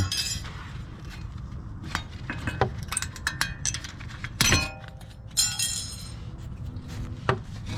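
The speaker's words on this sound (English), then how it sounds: "I'm gonna remove this old hardware because we're installing new hardware" Old metal brake caliper hardware being pried and pulled off a 2014 Nissan Sentra front brake: scattered light clinks, scrapes and rattles of small metal clips, with a couple of louder knocks in the middle.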